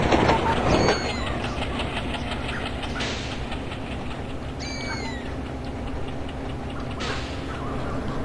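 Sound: train running and slowing in MSTS Open Rails train simulator video game

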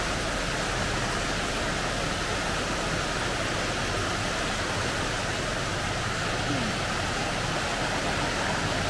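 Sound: running water at Lumsdale Falls waterfall

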